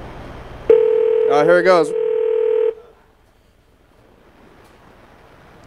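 Telephone keypad dialing tones from a call being placed to a grandmother, one long steady tone with a brief warbling burst in the middle, loud and close, followed by near silence, with people talking around it.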